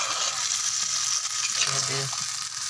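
Chicken curry simmering in a clay pot, a steady close sizzle and bubbling with light stirring, and a voice talking faintly underneath.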